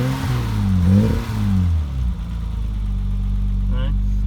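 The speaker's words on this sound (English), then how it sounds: "So let me rev it a little bit so you get to hear it." A 1987 BMW 325 straight-six engine revs up and down a few times, its pitch rising and falling, then settles back into a steady low idle.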